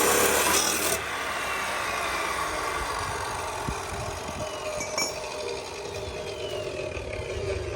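A Harbor Freight saw cuts through steel roll bar tubing for a Miata, giving a steady, loud, continuous rasping grind that runs for several seconds with a brief louder burst at the start and no talking.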